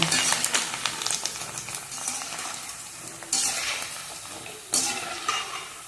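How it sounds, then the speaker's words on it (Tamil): Sun-dried rice vathal crisps frying in hot oil give a steady, fairly loud sizzle and crackle, with two sharp bursts of spitting as fresh pieces drop in. "நல்லா சூடான எண்ணெயில் போட்டு எடுக்கணும் பாருங்கள் நல்லா பூ மாதிரி ரோஸ் மாதிரி அழகாக பொரிஞ்சு வருது"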